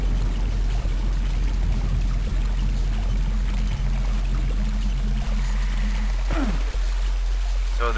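Green water flows steadily in Daikatana, a constant rushing, pouring wash that stays loud and even throughout, with a faint game blip near the end and no talking.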